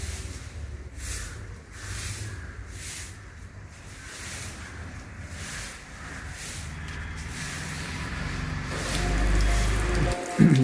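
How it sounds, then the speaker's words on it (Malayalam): Steady rain patters and hisses across a surface throughout, with a brief louder rustle near the end. "രണ്ട് ദിവസം മഴയില്ലായിരുന്നു അത് പിന്നെയും മഴ തുടങ്ങി"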